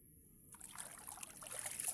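Water trickles and splashes into a stone-lined well through a large opening from above, a steady, faint watery patter that grows a little busier partway through, with no one talking.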